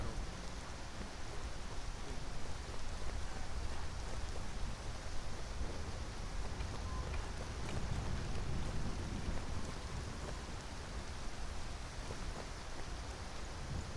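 Rain falling in the video game Skyrim with the Ghoulified Reality mod, a steady hissing downpour with a dense patter of drops and a faint low rumble, continuous and even throughout.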